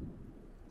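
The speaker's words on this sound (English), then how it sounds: "that's thunder" Low rumbling thunder in The Sims, a steady deep roll lasting under a second with a faint lift at the end, heard alone without voices.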